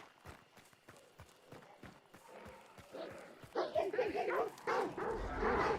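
Repeated sharp dog barks in Hunt: Showdown, first spaced out, then a busier stretch with a voice talking over them.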